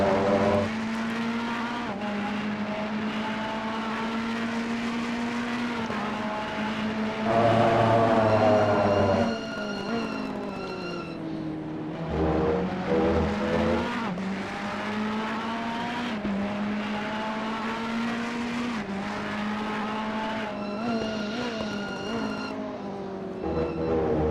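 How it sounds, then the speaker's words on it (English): A race car drifts around Misano in a racing game, engine revving and changing pitch through gear shifts as tires squeal and skid, loud and continuous with no voices. "Have that big drift right there."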